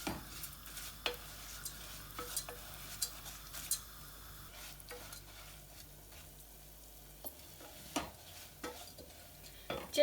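Fried onions warming gently in oil in a pan for lamb and potato curry, giving a soft steady sizzle with scattered scrapes and clinks of a spoon against the pan, close and fairly quiet.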